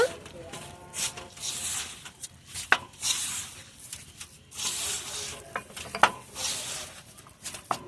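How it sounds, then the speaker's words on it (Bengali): Wheat dough being kneaded with beet paste and salt for colorful beet paratha, soft irregular squishing and slapping with occasional sharp taps against a bowl, fairly quiet and close. "আটার সঙ্গে এখন বিটটা ভালোভাবে মাখিয়ে নেব।"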